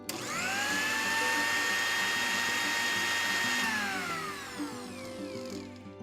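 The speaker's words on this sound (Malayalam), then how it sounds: "ഇനി ഈ സ്വീറ്റ് കോണിന്ന് പകുതി നമ്മൾ ബ്ലെൻഡ് ചെയ്തെടുക്കുന്നുണ്ട്." A kitchen blender grinds sweet corn for payasam with a loud, steady high whine that drops in pitch partway through and then sputters and slows to a stop, close by and with no talking.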